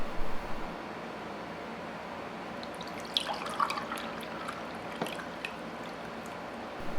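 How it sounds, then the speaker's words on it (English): Water poured in a steady, faint trickle into a bowl of poolish dough made from equal parts flour and water, a soft continuous liquid hiss with a few brighter splashes midway, no talking. "and then we'll just add 2 cups and 3/4 of a cup of water"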